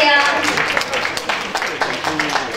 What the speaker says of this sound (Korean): 큰 박수로 축하해주세요.